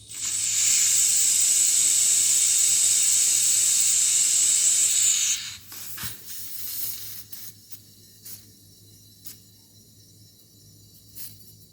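Air hisses loudly and steadily out of a camping gas cylinder being bled while it is refilled with lighter gas, then cuts off after about five seconds, leaving faint handling clicks.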